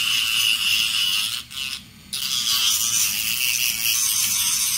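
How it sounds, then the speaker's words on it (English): Fine sandpaper rubbing on a denture during a home adjustment, a close, continuous gritty rasp with a brief pause midway. "And this is a little fine sandpaper."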